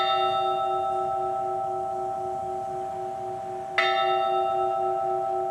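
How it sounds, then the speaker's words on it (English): A memorial bell for fallen Zone 10 Fire firefighters in Louisville is struck once, loud and close, over a steady sustained ringing tone that keeps humming before and after the strike. "At this time, we will ring the bell."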